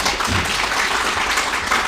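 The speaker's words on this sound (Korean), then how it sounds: "여러분에게 박수 한번 쳐드리겠습니다" Audience applause fills a 2023 New Year greeting gathering in Anyang 8-dong, a dense, continuous wash of many hands clapping close by at steady loudness.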